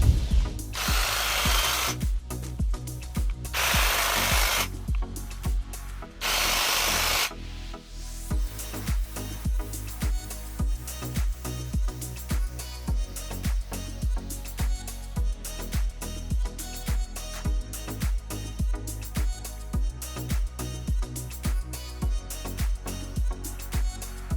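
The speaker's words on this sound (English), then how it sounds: "Did you see how long it took me to do that trimming?" A trimming tool cutting plant branches, with a few harsh bursts of noise at first, then a long run of steady, evenly spaced mechanical clicks and snips up close.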